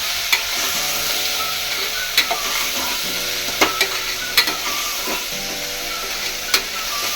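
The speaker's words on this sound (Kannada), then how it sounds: "ಇವಾಗ ಎಲ್ಲನೂ ಎಣ್ಣೆಲಿ ಫ್ರೈ ಮಾಡ್ಕೋಬೇಕು." Vegetables, sprouted beans and brinjal fry in oil for sprouted-bean sambar, a steady bright sizzle punctuated by sharp spatula clacks against the pan every second or so, close and without talk.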